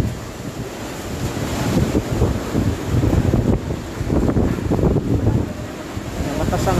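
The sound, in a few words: strong typhoon wind (Super Typhoon Rolly/Goni)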